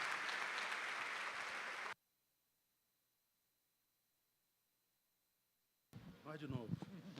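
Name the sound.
audience applause welcoming the pastor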